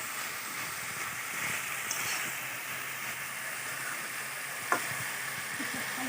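Vegetables and paneer sautéing in a hot pan at home, a steady close sizzle and frying hiss running throughout with a couple of faint clinks.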